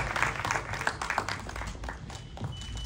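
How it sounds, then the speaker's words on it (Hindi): A crowd at the Sarvottam Nagarik Sanman 2024 award ceremony claps for Atal Bihari Vajpayee in a short, quiet burst of scattered, uneven handclaps that fades within a few seconds. "अटल बिहारी वाजपेयी जी के लिए एक बार जोरदार तालियां हो जाए"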